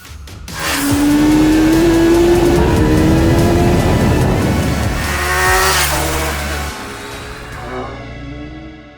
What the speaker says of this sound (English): Makes for an intoxicating concoction when laced with that beautiful inline 4 symphony.